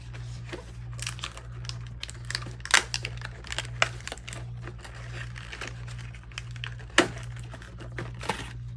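Tattoo needle cartridge packaging, a Rattlesnake 007 round liner, handled up close: crisp crinkles, taps and plastic rustles in irregular bursts over a steady low hum, with no talk.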